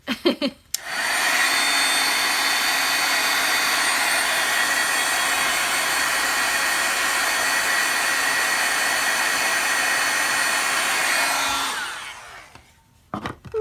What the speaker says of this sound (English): Our heat gun.